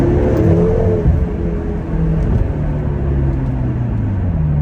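A BMW F13 M6 engine revs hard and loud up close, a steady deep roar with rising harmonic sweeps that climb and settle over a few seconds.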